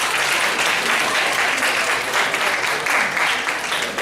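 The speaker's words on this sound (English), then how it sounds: "Give a big round of applause, everybody." Audience applause at a high school English honors program project presentation, a full hall clapping loudly and continuously with dense, even texture throughout.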